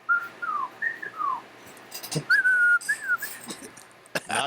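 A person whistling a bird-call imitation during a tabletop role-playing session, a series of short sliding two-note phrases repeated close and clear, with a few brief noises in between.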